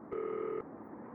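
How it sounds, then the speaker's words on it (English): A single short two-tone telephone keypad beep while dialing a call in a Nancy Drew detective game, clean and steady for about half a second before cutting off to quiet room tone. "I guess we can try calling him now and see if it works"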